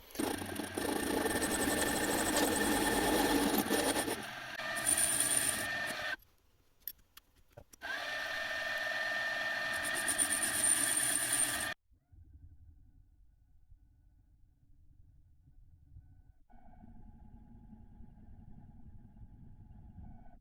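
A milling machine bores the diameter of a casting held in a vise, using a boring head; steady machining noise runs loud for about twelve seconds with a brief interruption, then drops to a faint low hum.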